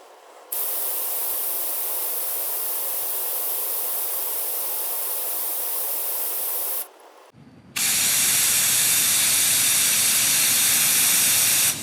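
A mix of PB Blaster and 3-in-1 oil sprayed from an aerosol can onto a Keihin carburetor body, two long continuous hissing bursts, the second louder and harsher, with no one talking.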